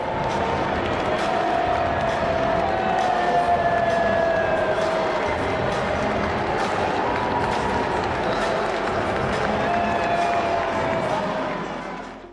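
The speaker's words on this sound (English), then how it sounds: "Donald Trump getting booed as he takes his seat with some of his guests right there at the Arthur Ashe Stadium for the men's final" A packed stadium crowd at the US Open men's final in Arthur Ashe Stadium boos Donald Trump as he takes his seat, a loud, steady roar of many voices that holds for about twelve seconds before fading at the end.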